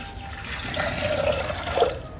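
Water poured into soaked chana dal in a kitchen pot, a steady close splashing trickle with brief bubbly surges, no talking.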